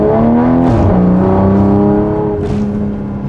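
A car engine revs hard and accelerates up close. The loud rising roar climbs in pitch, dips at a gear change and climbs again, then eases off toward the end.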